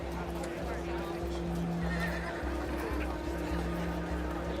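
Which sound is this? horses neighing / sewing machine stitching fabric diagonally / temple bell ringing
horses neighing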